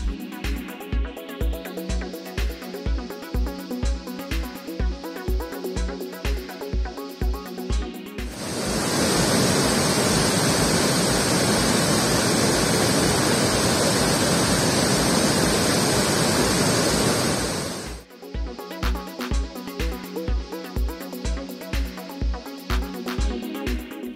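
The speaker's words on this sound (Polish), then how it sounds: "Wodospad Gullfoss, czyli Złoty Wodospad." Gullfoss waterfall in Iceland gives a dense, steady roar for about ten seconds, set between stretches of rhythmic music.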